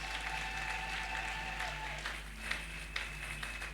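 A church congregation applauds during a Sunday worship service, with steady dense clapping filling the room for several seconds and a few sharper claps near the end.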